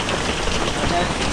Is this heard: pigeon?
no